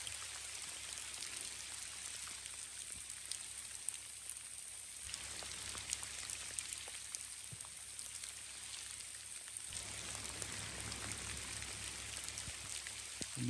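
Steady rain pours down over an open cow pasture, a dense continuous hiss with scattered drops close by, holding even and unbroken throughout with no voices.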